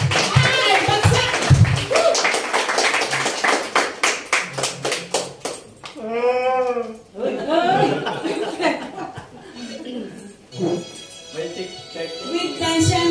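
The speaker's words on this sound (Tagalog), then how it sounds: "Palakpak muna." Group clapping at a Dalian Peak Hotel Christmas party, steady rhythmic claps keeping time under singing and chatter for the first few seconds, then voices, laughter and lively talk take over.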